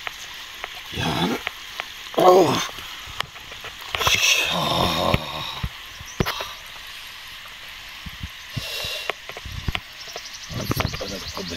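Rain starts falling on an outdoor spot during big rohu fishing, a soft hissing patter behind brief bursts of nearby talk and scattered handling knocks.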